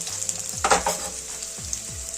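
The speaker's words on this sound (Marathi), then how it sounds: "हा लसूण घालून घेऊया। ठेचून घेतलाय आपण। आणि आलं पण ठेचून घेतलंय।" Crushed garlic and ginger hit hot oil and sizzle loudly and steadily, with a few stirring scrapes in the pan up close and no voices.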